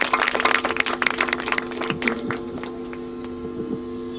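A church congregation at a Christmas service in Dehradun claps in a brisk burst that fades out after a couple of seconds, with a steady tonal hum underneath.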